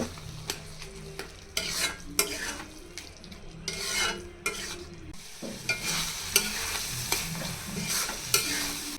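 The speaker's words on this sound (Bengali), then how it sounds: "এখন আবারও সবগুলো একসাথে একটু নেড়ে চেড়ে নামিয়ে পরিবেশন করে নিব" A spoon stirs tomato chutney in a hot pan with coriander leaves, giving repeated scraping and clinking strokes over a soft steady sizzle, close and fairly loud with irregular rhythm.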